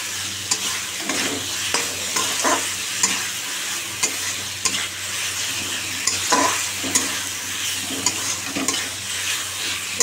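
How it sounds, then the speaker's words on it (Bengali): Meat and boiled potatoes are stir-fried in a pan, with a close, steady sizzle and repeated scraping and clanking spatula strokes throughout, and no talking. "আলুটা দিয়ে দিই, আলু সিদ্ধ কষাচ্ছি।"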